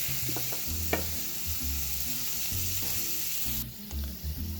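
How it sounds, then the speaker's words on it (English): Garlic and onion cooking together in a pan for egg stew give a quiet, close sizzle with soft intermittent stirring knocks and scrapes, no voices. "I'm going to have the garlic cook with the onion for about a minute"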